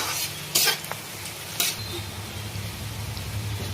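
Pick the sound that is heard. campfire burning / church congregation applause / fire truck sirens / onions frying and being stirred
onions frying and being stirred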